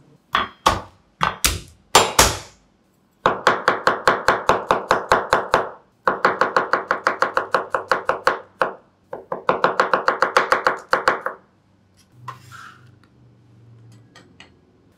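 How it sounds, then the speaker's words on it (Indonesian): A knife chops garlic on a board, starting with a few separate strikes, then three long runs of fast, even chops. A faint low rumble follows at the end. "Sekarang kita akan potong bawang putihnya."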